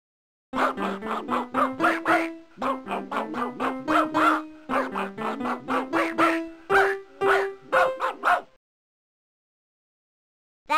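Cartoon dog barking in the Dr. Seuss's ABC game, a rapid run of bright, tuneful yips and barks in a bouncy rhythm for about eight seconds, then silence.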